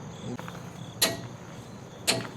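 A torque wrench set to 154 foot-pounds tightens nuts and gives two sharp, loud clicks about a second apart against a quiet background hum.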